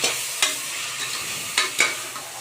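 A spoon stirs boiled cabbage and moong dal in a pan, with several sharp scraping strokes over a soft, steady sizzle, close by and without speech.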